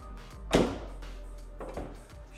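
A BMW 850i E31 car door shuts with one solid thud, followed a second later by a softer knock, quiet and close.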